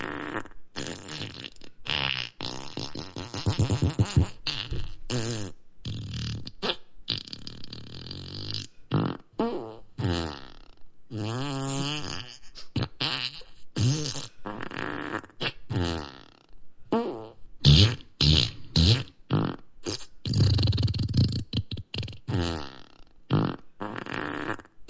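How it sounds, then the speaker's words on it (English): A voice assistant plays a long string of comic fart sounds in a row, loud, close and varied, with short gaps between them and no talking. "Time for me to fart 34 times."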